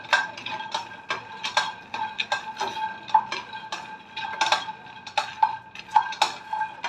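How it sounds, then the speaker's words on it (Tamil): Millet dry-roasting in a pan while being stirred, giving repeated light scraping and clinking of a spoon against metal at a steady, uneven rhythm, close and moderately loud, with no talking. "இப்போ நான் இதை நல்லா வறுத்துக்கிட்டுருக்கேன். நல்லா சிவக்க வறுக்கணும்."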